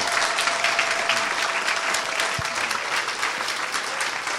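A church congregation bursts into sustained, dense applause with some cheering voices, a steady wash of clapping that holds at full strength from start to finish.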